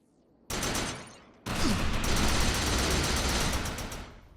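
Rapid gunfire from the Defiance game with the Overcharge power active, a short loud burst followed by a longer sustained barrage of dense shots that slowly fades, without talk.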